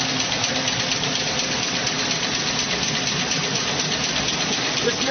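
Pump-driven fluid electricity generator running with its wheel turning, a steady dense mechanical drone with a continuous low rumble and rattle, close and constant throughout.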